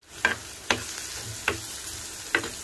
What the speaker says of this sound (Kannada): ಈಗ ಎಣ್ಣೆಯಲ್ಲಿ ಇದನ್ನು ಮಾಗಿಸ್ಕೊಳ್ಳೋಣ,